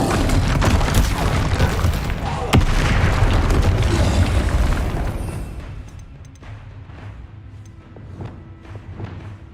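A fire spell blast in the video game Hogwarts Legacy: a loud, roaring burst with a sharp crack partway through, fading over several seconds into quieter scattered thuds.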